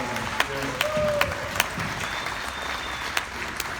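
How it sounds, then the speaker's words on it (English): Audience applause at an AHEC event, a steady wash of clapping with a few sharper claps standing out, heard at moderate distance with some faint whistles or tones over it. "Please give her a round of applause."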